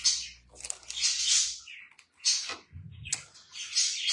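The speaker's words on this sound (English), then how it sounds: "You can probably hear my birds in the background singing." Small pet birds chirp and warble in bursts, high and bright, close by in a quiet living room with a low rustle partway through.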